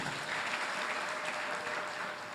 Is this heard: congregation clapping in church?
yes